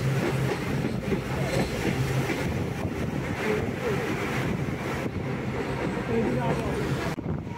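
The Sabroom Kanchanjungha Express, train 13173, crosses the Farakka Barrage with a steady rolling rumble heard from on board, mixed with strong wind buffeting the microphone.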